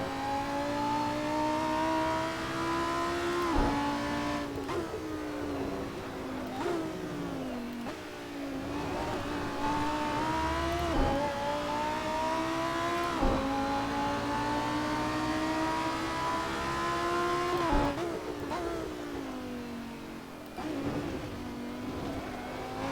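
A Lamborghini Super Trofeo race car lapping Imola in Assetto Corsa, its engine revving hard through repeated upshifts and sharp downshifts, loud and close the whole time with no talk.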